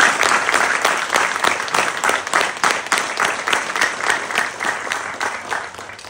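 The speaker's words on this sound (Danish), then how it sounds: "jeg tænker, vi skal lige give en klapsalve for det" A crowd applauds a youth player at a cheerleading and sports awards night, dense steady clapping throughout with a few louder individual claps, no talking.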